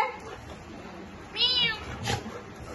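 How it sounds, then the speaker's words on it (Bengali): A cat gives one clear, rising meow up close, followed by a softer second call, against a quiet indoor room. "বিড়াল ভুসুর সব থেকে বড় সত্যি, চাবির জন্য এমন করছে।"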